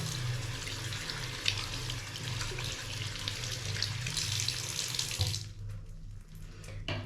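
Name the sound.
water running from a tap while washing hands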